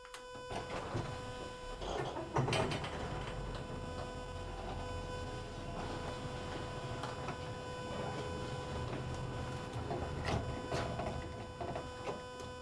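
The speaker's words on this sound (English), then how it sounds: "I want to show you how amazingly quiet this garage door is" A residential garage door, about two inches thick, opens very quietly with a steady low mechanical hum and a few faint clicks and knocks across the run, no voices over it.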